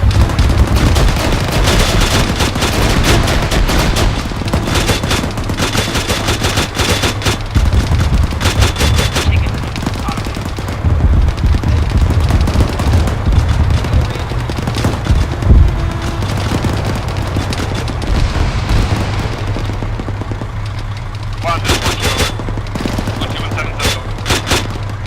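Sustained firefight in ArmA 3, loud overlapping rifle and machine-gun bursts rattling almost continuously with heavy booms mixed in, radio-style voices talking throughout.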